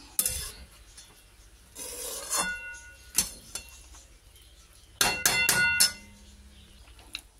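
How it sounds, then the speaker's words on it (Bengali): Mixed fried rice is scraped and tipped out of a metal pan with a spatula, giving a few clanging, scraping bursts separated by quiet gaps, close and fairly soft. "হয়ে গেল আমার ফ্রাইড রাইস। এবার আমি ঢেলে রাখি।"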